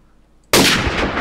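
A loud Minecraft gunshot bursts in abruptly partway through and carries as a sustained, noisy blast to the end, with no talk over it.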